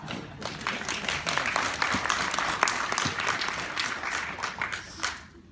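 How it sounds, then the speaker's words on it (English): Moderate clapping from a digital currency event audience, a fairly dense patter of hands that swells slightly mid-way and fades out near the end. "if you agree, feel free to clap"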